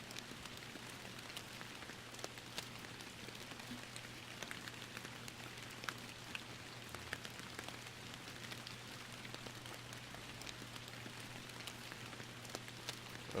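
Steady rain falls outdoors, a soft continuous hiss of drops striking surfaces with scattered small ticks, under a low constant hum.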